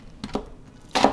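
A knife cutting an onion into eighths on a board, with two quick close chops followed by a pause and then a louder third cut.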